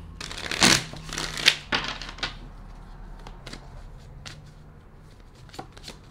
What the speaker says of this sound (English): I'm hearing one more shuffle.